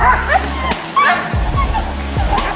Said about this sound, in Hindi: ये कुत्ते उस पर काफी गुस्से में भौंकते रहते हैं।